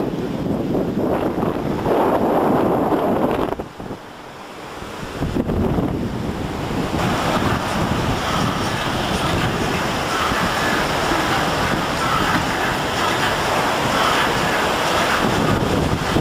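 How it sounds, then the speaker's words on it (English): Beach waves at Playa del Carmen seen from the bottom of 6th Avenue, a continuous loud wash of surf with heavy wind buffeting the microphone and one brief dip in the roar. "There's the beach from the bottom of 6th Avenue."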